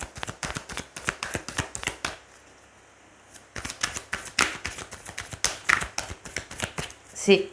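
Tarot cards shuffled and drawn in a run of quick, crisp riffling snaps and flicks, close and fairly soft, pausing briefly midway before resuming.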